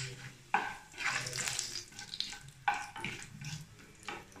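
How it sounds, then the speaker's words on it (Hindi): Cumin seeds crackling in hot oil as a faint, close sizzle with small pops and a couple of sharper ticks of the spoon, steady and quiet with no talking. "जीरा भी तड़क गया है"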